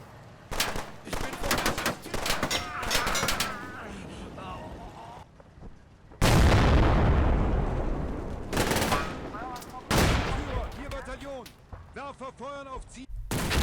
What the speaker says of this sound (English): a submachine gunner who manages to take out a Panther commander with a couple of bursts